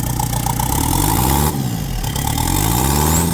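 A loud mid-pitched motorcycle engine runs steadily, its pitch rising and falling as it revs, with a brief dip in the middle before building again.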